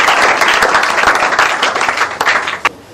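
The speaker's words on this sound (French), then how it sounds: "Est-ce qu'on peut encore les applaudir?" A theatre audience applauds a local theatre company at its 40th-anniversary celebration, a dense, lively burst of clapping that fills the hall and thins out toward the end, with a few last sharp claps.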